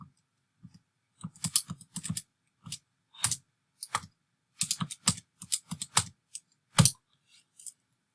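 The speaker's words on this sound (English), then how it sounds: "type it in my calculator now" Numbers tapped into a calculator while working a law of sines problem: a close, quiet series of plastic key clicks in irregular clusters, some rapid and some spaced apart, with no voice over them.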